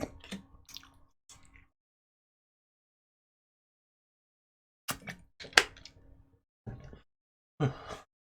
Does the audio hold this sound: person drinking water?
yes